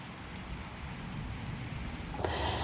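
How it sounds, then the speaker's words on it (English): Steady rain patters and hisses on surfaces outside a garden shed, a dense, even wash of drops that grows slightly louder near the end, with no voices. "Bloody rain."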